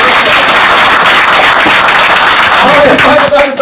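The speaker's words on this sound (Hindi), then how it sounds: "देखो ताली अगर बजाना है तो कायदे से बजाओ और नहीं तो मत बजाओ" A training-session audience at an insurance motivational program in Srinagar claps loudly and continuously, a dense, close wash of hands that holds steady before thinning slightly at the very end.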